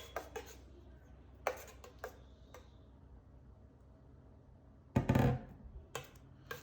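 A spoon clinks and scrapes against a bowl while mixing vegan blueberry chia pudding, with a few light ticks, then a louder cluster of rattling knocks, all close and sparse.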